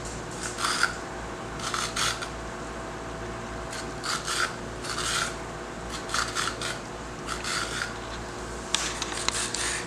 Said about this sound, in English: I have this fork right here, and I'm going to put some lines in my cucumber.